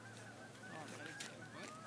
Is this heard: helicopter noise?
no